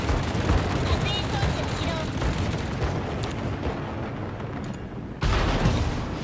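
Ships' anti-aircraft guns blaze away in World of Warships, a dense, continuous barrage of rapid booming gunfire that rumbles on for several seconds, briefly thins, then swells loud again near the end.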